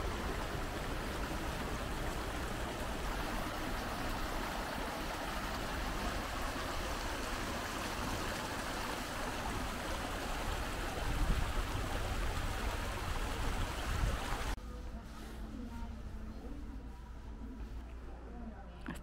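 A river flows steadily beside an old stone bridge, a continuous broadband rush of running water close by that drops away sharply near the end, leaving a quieter outdoor background.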